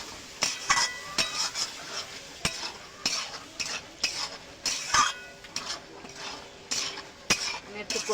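Chilli powder, coriander powder and boot chickpeas for ghugni are stirred and sautéed in a pan, with a soft sizzle under rhythmic scraping and clinking of a metal spoon against the pan, close by.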